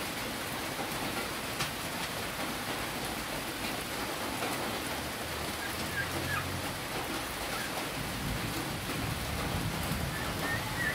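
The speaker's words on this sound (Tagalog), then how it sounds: "Ayan, lakas ng ulan." Sudden heavy rain pours in a dense, even wash of hiss and patter that stays steady and fairly loud throughout, with no voices.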